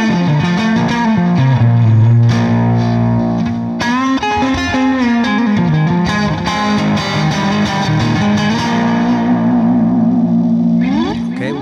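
Electric guitar played through an Overloud TH3 Fender Twin amp simulation, clean sustained chords and single-note lines ringing with a glassy tone, close and loud, with no voices over it.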